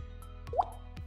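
A person's mouth imitates a single water droplet, one quick rising plop standing out alone against a quiet hum, faint and close.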